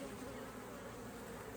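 Honey bees buzz steadily at a hive, a dense, continuous drone close by with no talking over it.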